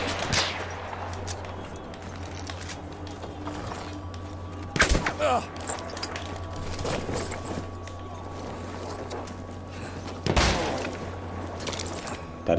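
Battlefield 1 combat with scattered distant gunshots and a few sharp, louder blasts over a steady low background hum, with someone talking intermittently.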